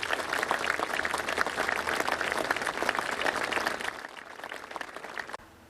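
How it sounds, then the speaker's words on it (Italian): A community crowd breaks into sustained applause, dense steady clapping that fades slightly toward the end before cutting off abruptly. "con la comunità che scioglie l'emozione in un applauso"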